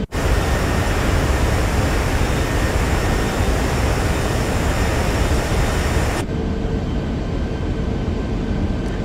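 An Inibuilds Airbus A340-300 in MSFS 2024 spools its engines up for takeoff; a loud, dense, steady roar fills most of the stretch, then drops abruptly to a quieter, duller rumble near the end.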